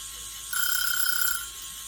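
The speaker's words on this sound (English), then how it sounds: "right when the buzzer goes off" A timer buzzer sounds in a quiet workshop setting during epoxy resin mixing, one steady electronic tone lasting about a second in an otherwise hushed room.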